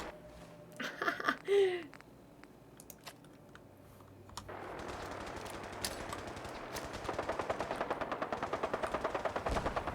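Gunfire in Fallout 4 starts as a few scattered shots, then turns into long, rapid automatic bursts that grow louder and denser toward the end, with brief game sounds early on.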